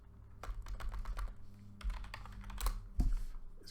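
Rapid keystrokes on a computer keyboard entering a network config command, a quick burst of sharp clicks at close range followed by a heavier key strike near the end.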